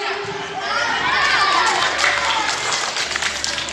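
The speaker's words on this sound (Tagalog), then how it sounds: "Alin kaya po ang malakas pumalakpak?" An audience of parents and children claps and cheers at a barangay Christmas event, a moderate, steady wash of applause and crowd noise that holds for a few seconds.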